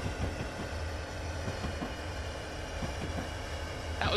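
Train Simulator 2015 locomotive rolling up a slope into a short tunnel on the Soldier Summit line: a steady, close rumble of wheels and engine with faint rhythmic rail clicks and a brighter whoosh swelling at the end.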